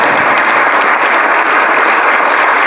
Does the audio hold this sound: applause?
yes